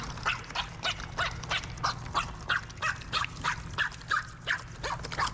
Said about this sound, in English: I had no idea that stingrays could bark like this.